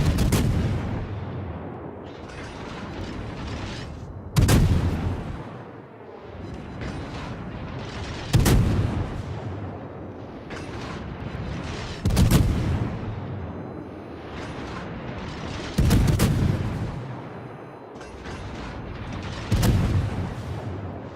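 Naval guns on the cruiser Worcester fire in World of Warships: loud booming salvos roughly every four seconds, each a sharp blast with a rumbling tail, over a constant low mechanical hum of the ship.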